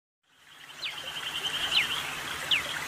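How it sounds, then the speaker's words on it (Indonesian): Prenjak songbird, a small sharp-voiced fighter bird popular in Indonesia, gives three quick thin whistled chirps against a steady hiss of background ambience, close and moderately loud, with no talking. "Suara burung perenjak memiliki karakter yang tajam dan merupakan burung fighter"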